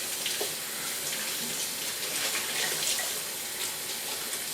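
Water runs steadily from a tap as a Norwex dust mitt is rinsed underneath, a continuous close hiss and splash with faint rubbing variations throughout.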